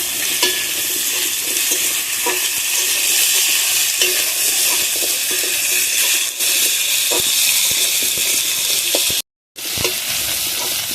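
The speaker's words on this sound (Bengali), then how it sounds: "আলুটা ভালোভাবে ভেজে নিয়েছি লাল লাল করে" Large potato pieces fry in a pan for a village-style thor and prawn ghonto, with a loud, steady sizzle and hiss and occasional scrapes of stirring, broken by a brief silence near the end.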